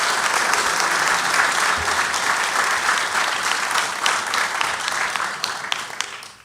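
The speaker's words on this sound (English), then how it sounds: "Now might be a good time to give our candidates another round of applause." A room full of people at the Key Biscayne mayoral debate applauds the candidates steadily, a dense wash of clapping that holds for several seconds before tapering off at the end.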